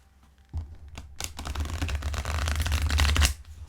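A deck of Light Seers Tarot cards is riffled and shuffled by hand close up, a dense crisp flutter of card edges that starts soft, swells into a loud steady run, then stops abruptly.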